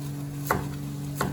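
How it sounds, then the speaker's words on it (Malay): Two sharp knife chops strike a cutting board while cutting ginger, spaced under a second apart, over a steady low hum. "potongkan bahan-bahan tadi."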